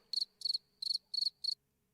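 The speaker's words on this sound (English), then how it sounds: "It's supposed to be crickets." Five evenly spaced cricket chirps, each a quick trilled burst, clear and isolated against near silence as a sound effect.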